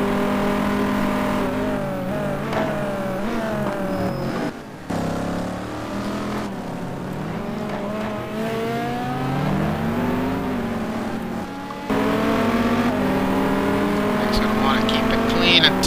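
Several GT2-class race cars in a racing video game run down a straight at Spa, their engines droning and shifting pitch as they pass, with race commentary talking over the engine noise throughout.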